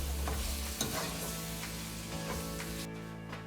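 Ground beef cooks in a pan with seasonings for chili, giving a continuous close sizzle with occasional scrapes and stirs and no talking.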